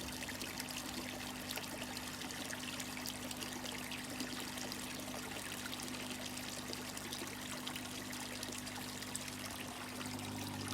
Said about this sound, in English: the main flow coming back from the pre-barrel filter system